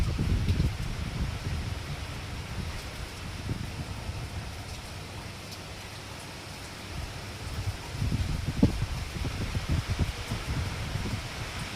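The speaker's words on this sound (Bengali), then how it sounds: "বৃষ্টির জল বাতাসের তাড়নায় বারবার গায়ে এসে লাগছে" Monsoon rain falls at night in the Andaman Islands, a steady hiss of rain driven by gusting wind, with low rumbling swells of wind rising and falling throughout.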